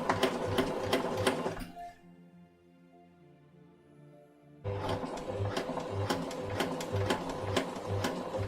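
A sewing machine stay stitching shirt fabric: a close, rapid and even run of needle strokes that stops for about three seconds and then starts again at the same steady pace, with no voice.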